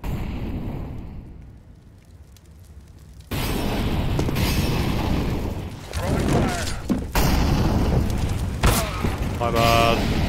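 A Molotov cocktail thrown and bursting into flames in a shooter video game, with heavy rumbling bursts and crackling roar after a quieter lead-in, while someone talks over it.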